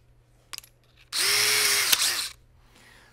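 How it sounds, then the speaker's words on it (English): A power drill bores a pilot hole into the stock of a 1903 Springfield rifle, a single close, loud whirring burst of about a second with a steady motor whine, preceded and followed by small handling clicks. "And we'll drill a pilot hole here."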